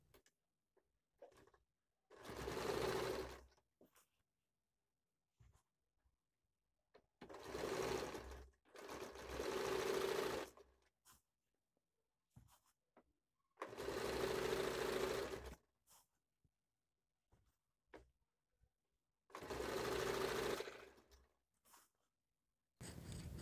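A sewing machine stitches semi-Patiala salwar fabric in five separate bursts of rapid whirring, each lasting one to two seconds and divided by quiet pauses, heard close up with no speech.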